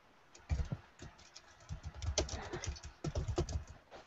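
Fingers type on a computer keyboard in irregular bursts of quick, close clicks separated by short pauses, fairly quiet and with no talking.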